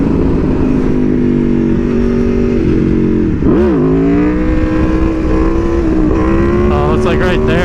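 Aprilia Tuono V4R motorcycle engine revving hard during a wheelie, loud close roar with rising pitch, a brief dip and surge midway, then climbing again under wind noise.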